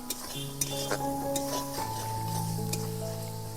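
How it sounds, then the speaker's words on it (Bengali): Ginger garlic paste sizzles with spices in a wok at a village cooking spot, under steady frying hiss with light scraping stirs and clinks, and a sustained tonal hum running throughout. "আদা রসুন বাটাটা এবার ভালোভাবে ভেজে নেব মশলার সাথে।"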